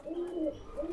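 Teddy 128 pigeons, tiger-marked birds with deep red eyes, give repeated low throaty coos in a steady rolling rhythm, close and moderately loud with no talking.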